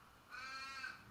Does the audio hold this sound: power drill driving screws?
no